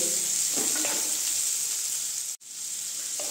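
Chopped carrot, capsicum, onion and green chilli lightly frying in a pan, a steady close sizzle with a few stirring knocks, briefly cutting out for a moment before resuming.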